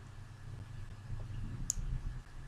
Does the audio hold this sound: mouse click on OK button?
yes